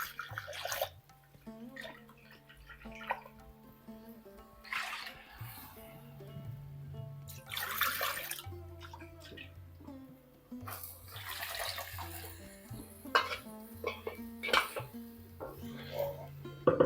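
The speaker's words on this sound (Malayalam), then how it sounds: "കുറച്ച് വെള്ളം കൂടെ അതിനകത്ത് ഒഴിച്ചു കൊടുക്കാം." Water poured into a mixer grinder jar in short splashing bursts with trickles between, repeating unevenly, fairly faint and close, with a low hum underneath.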